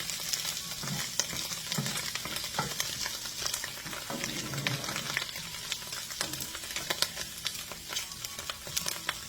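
Onions frying in a pan with a continuous crackling sizzle and frequent spatula scrapes and clicks, close and steady for several seconds with no one speaking.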